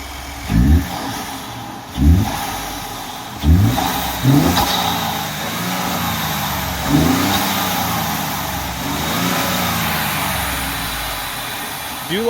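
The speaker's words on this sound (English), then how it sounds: "Do like a slow increasing RPM, and then like rev it whole way through and let off quick." A 2018 Ford F150 with the 2.7 EcoBoost engine and a K&N air intake idles, then gets several sharp rev blips before one long, slow climb in revs that falls away. Loud and close.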